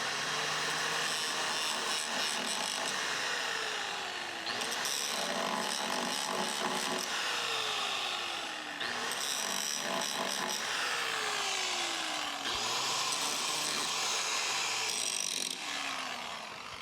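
Angle grinder working the steel hull of a sailboat under restoration, a loud continuous abrasive whine with repeated falling pitch sweeps as the disc bites and eases off, running in bursts over about seventeen seconds with no talk.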